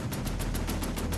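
Rapid bursts of heavy tank gunfire repeat at a steady pace, loud and close, with a deep rumbling tank engine drone underneath, in a World War II battle at Falaise.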